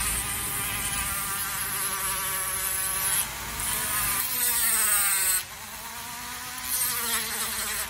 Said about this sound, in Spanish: ahora voy a usar el Dremel para rebajar acá donde no pude cortar bien